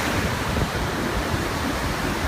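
Rough surf at a Florida beach with a strong undertow, a dense continuous roar of breaking waves and wind mixed together, steady and fairly loud with no voices.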